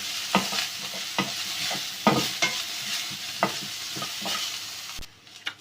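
Vegetables and carrots frying in hot oil for chicken chow mein, with a spatula stirring through a steady sizzle in repeated close scraping knocks, alone without talk, stopping abruptly near the end.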